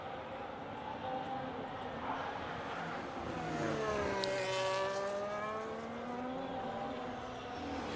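A Haas Formula 1 car in the F1 25 racing game on a fast lap, its high-pitched engine climbing and sweeping through gear changes and rising to a loud peak mid-run before easing off.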